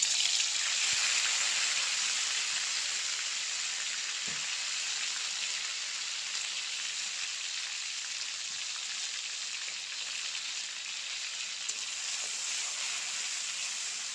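Steady, loud sizzling of green chili paste frying in hot oil in a wok, a continuous crackling hiss that holds for the whole stretch with no talking.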